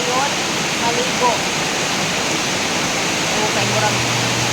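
Heavy rain pours down in a steady, dense hiss that stays loud and unbroken throughout, with no other distinct sounds standing out.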